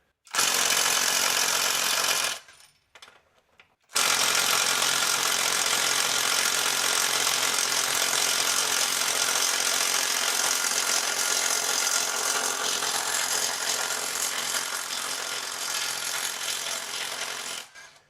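An Amazon impact driver hammers at a bolt torqued to 120 foot-pounds, a loud, dense continuous rattling that runs for a couple of seconds, pauses briefly, then resumes and keeps pounding steadily for well over ten seconds before stopping.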